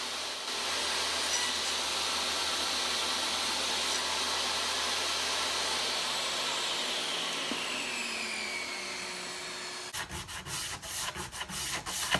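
A router cuts rabbets into the lid of a barn wood keepsake box, whining steadily and loudly with a low motor hum, then winding down and giving way to a series of rubbing scrapes near the end.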